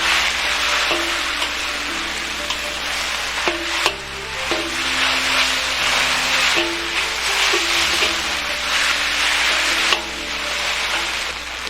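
Knife-shaved noodles stir-fried with dark soy sauce in a hot wok, a steady loud sizzle with metal-on-metal scraping and clanking as the noodles are tossed, background music playing alongside.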